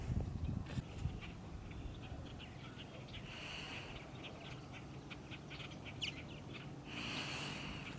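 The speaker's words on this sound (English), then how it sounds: "Some of the birds are starting to come in." Purple martins flying in to roost, heard as scattered chirps and calls at a distance over a steady low rumble of water and outdoor noise, with brief denser bursts of chatter; the calls stay faint throughout.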